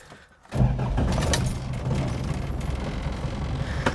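A restored Jeep XJ Cherokee sets off on a road test: after a brief quiet moment its engine comes in and runs steadily, a close, fairly loud interior drone with faint rattles, and no one speaks.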